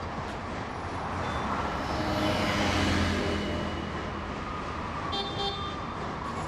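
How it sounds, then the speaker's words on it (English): Faint city traffic ambience from Square City Architect, a Unity city-builder game: a soft wash of passing vehicles with a few short car horn toots, one standing out near the end. "nested random containers that contain vehicle pass-bys, bicycle bells, emergency vehicles, and car horns"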